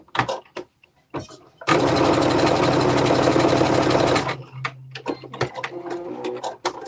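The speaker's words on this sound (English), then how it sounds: "Lift your pressure foot up, pivot your fabric down towards the notch." A domestic sewing machine stitches fabric in one steady, loud burst of about two and a half seconds while a top and pants are sewn into shorts. Brief clicks and handling noises come before it, and a faint hum trails after.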